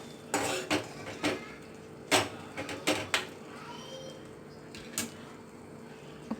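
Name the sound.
mixing egg curry with coriander powder in pan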